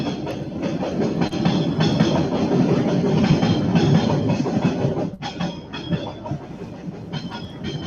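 A train rolls past on a track right beside a home, a loud, steady rumble of wheels and cars that holds for several seconds, briefly dips, then carries on.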